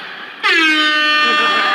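A loud air horn blasts in abruptly after a short quiet stretch and holds its blaring, steady tone to the end.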